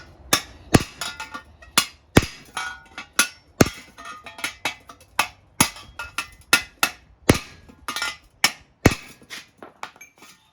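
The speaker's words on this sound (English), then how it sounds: "Then you can sort of break the welds by hitting it down" A hammer strikes a Triumph Bonneville Bobber exhaust to break its welds, with about two dozen sharp metallic blows in an uneven rapid rhythm, close and loud with no talk.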